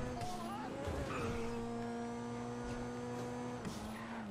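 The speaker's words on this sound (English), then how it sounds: "let's drive as fast as possible without braking" Grotti Turismo R sports car in GTA 5 driven flat out, a steady sustained engine drone with shifting tones and a few tire noises, loud and continuous.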